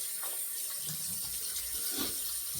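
A stainless steel tumbled safety razor rinsed under a running tap, a steady close hiss of flowing water with a few splashy gurgles.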